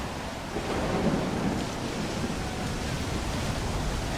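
A thunderstorm in Stalker 2 rumbles with steady, loud thunder over a dense wash of rain, a continuous broad roar with no break throughout.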